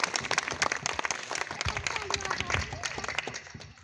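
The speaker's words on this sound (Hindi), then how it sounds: "जोरदार तालियों से स्वागत किया जाए।" Loud, dense applause fills a Buddhist wedding ceremony as the newlyweds are welcomed, with continuous clapping from the gathered guests that tapers slightly at the end.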